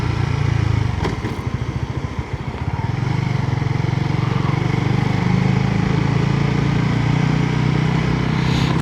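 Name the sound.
rattling loose rear box on a motorbike while riding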